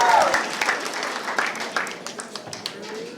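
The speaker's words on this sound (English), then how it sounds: "Can we give them another round of applause for the hard work they've" A round of applause from an audience at a festival prize distribution, starting dense and then thinning into scattered individual claps as it fades out.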